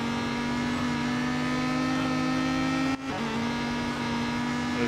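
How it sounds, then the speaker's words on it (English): Peugeot 9X8 race car in Real Racing 3 accelerating, a loud, steady engine drone with a strong sustained tone and a brief dip and shift partway through, with no talk. "so I need to be getting the foot down, I think. Right, into Magnus's slipstream"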